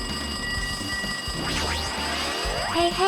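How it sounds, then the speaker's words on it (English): A telephone trills in Danganronpa 2 over background music, with a rising ring near the middle and another toward the end. "Looks like that phone is ringing."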